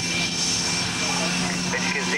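Loud, steady roar of C-130J turboprop engines from a low pass at an air force open day air display, with a constant droning hum throughout and a voice faintly audible beneath it.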